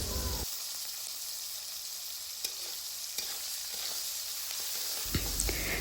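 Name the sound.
chopped onions and chillies added to hot oil, sizzling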